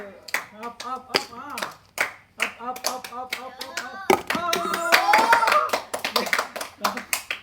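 Children clap their hands rhythmically in a game, a rapid series of sharp claps that build into a dense burst, while voices talk and call out over them.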